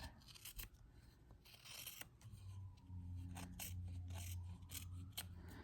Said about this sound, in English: I'm going to go inward here with the scissors